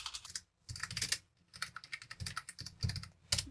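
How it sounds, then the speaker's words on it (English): Rapid bursts of typing on a computer keyboard at a Git Bash terminal, close and crisp, with short pauses between runs of keystrokes and no voices. "you can just type touch"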